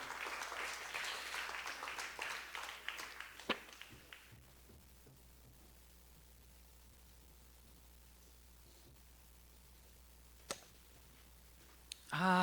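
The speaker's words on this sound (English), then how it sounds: "Please keep your applause going for Gia." Congregation applause at a church service fills the opening seconds, dense and fairly loud, then thins and fades by about four seconds into quiet room tone with a few isolated taps and a clatter near the end.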